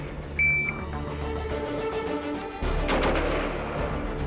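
Gunfire at an army infantry division's close-combat shooting training, heard as loud, dense shots echoing against steady background noise, with a heavier burst partway through.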